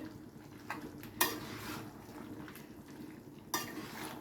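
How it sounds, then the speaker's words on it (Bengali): Chicken curry in a pot is stirred and fried uncovered, with a couple of sharp metal clanks from the spoon against the pot over a low sizzle in a quiet kitchen; no one speaks. "এবারে ঢাকনাটা খুলে খুব ভালো করে একটু কষিয়ে নেব।"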